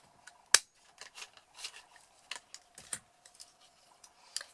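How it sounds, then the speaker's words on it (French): Paper punch snapping through paper while cutting a small arc on a mini vintage paper bag, one sharp close click followed by a series of lighter clicks and rustles over near silence, no talk. "Je positionne ma perforatrice"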